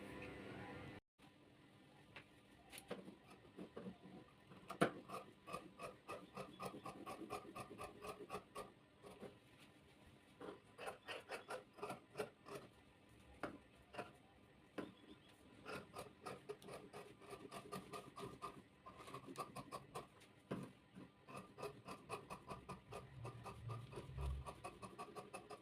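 Scissors cutting the main fabric piece for a chudidar, with steady, rhythmic snipping and rasping of blades through cloth on a table, quiet and continuous for about twenty-five seconds.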